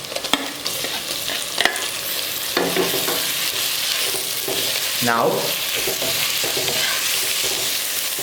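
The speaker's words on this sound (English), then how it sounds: "once the onions have started to fry and they are about to be light golden brown, you can add the tomatoes" Onions and tomatoes frying for a spicy Sri Lankan red fish curry, a steady close sizzle broken by scraping and stirring sounds, with one brief spoken word.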